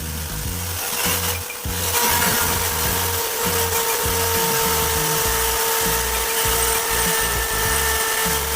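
An electric drill running steadily on a drill stand, a continuous loud motor whine with a rough, pulsing low rumble throughout, a brief dip near the start before it settles into an even drone.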